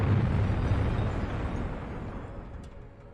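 A deep, rumbling bomb explosion at a railway bridge in East London roars and slowly fades over a few seconds, heavy and low, with no voices.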